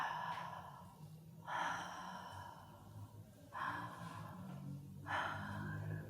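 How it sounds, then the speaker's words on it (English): Slow, deep breaths drawn in and let out, about four of them spaced a couple of seconds apart, soft and close with a low background hum. "Keep breathing."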